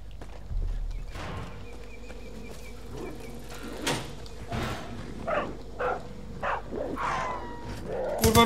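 A wolverine in Far Cry 5 gives several short, rough growls and snarls, scattered across the stretch at moderate loudness amid game noise.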